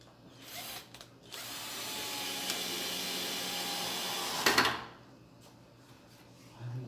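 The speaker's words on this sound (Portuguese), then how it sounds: "Vou parafusar pra nós colocar uma vez no lugar" A power drill drives screws into a door while a lock is fitted: a short trigger blip, then a sustained whirring run of about three and a half seconds ending in a rattling clack, close by, no talking.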